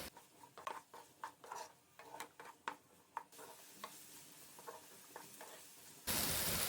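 Tomatoes with salt fry in a pan while a spoon stirs them, soft scraping taps over a faint sizzle, quiet and close, ending in a sudden burst of hiss.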